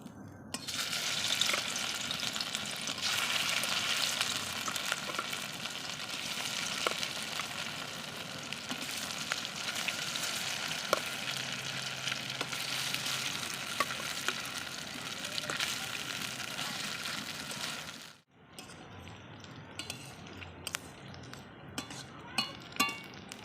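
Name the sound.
paneer pieces frying in hot oil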